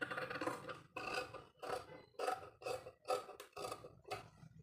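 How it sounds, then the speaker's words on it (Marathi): Scissors cut through a fabric sleeve, shaping the curve of the armhole in a series of about eight short, close, rasping snips at a steady rhythm, with no voices. "हे बघा असा आकार देऊन कट करून घ्यायची आहे"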